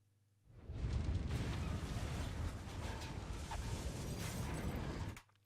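A big Mass Effect explosion rumbles, a loud, deep, roaring blast with rushing debris that lasts several seconds before cutting off.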